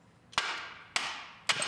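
A hammer tapping a corroded part loose from a car. Three sharp metallic strikes land at roughly even intervals, each ringing briefly, close and clear with no talking.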